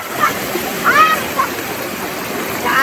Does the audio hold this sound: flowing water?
yes